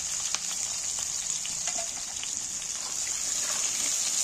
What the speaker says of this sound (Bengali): এবার পেঁয়াজগুলো তুলে দিচ্ছি। তেলটা খুব জোর হয়ে গেছে,